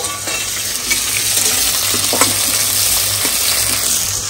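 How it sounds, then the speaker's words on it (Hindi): Onions browning in a pan of masala give off a loud, steady sizzle, with occasional scraping from a stirring spoon and no voices. "अब प्याज को अच्छी तरह से नंदनी ब्राउन करके भूंजेगी"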